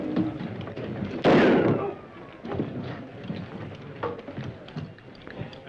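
A single loud gunshot cracks in a 1938 western film, echoing and fading for about half a second before quieter scene sounds and a faint voice follow.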